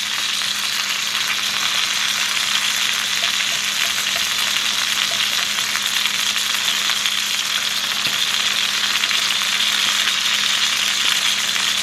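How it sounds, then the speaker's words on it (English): Ribeye steak fries in a pan on a stove top, a loud, steady, dense sizzle and crackle that continues unbroken with no talking. "So I'll check on the steak and see if it's done."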